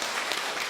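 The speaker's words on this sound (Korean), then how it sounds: "박수" A crowd applauds at a church service, a dense, even patter of many clapping hands heard close and loud for a brief moment.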